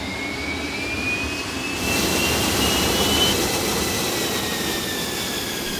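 A Folland Gnat, a British-made fighter jet flown by the Indian Air Force in the 1960s, gives a steady, broad jet engine roar that swells louder partway through, with faint whining tones sliding across it and no voices.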